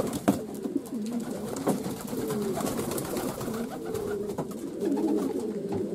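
Pigeons coo steadily in a loft of racing birds, soft repeated throaty calls overlapping at close range with no talk, continuing throughout.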